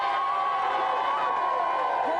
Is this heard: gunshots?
no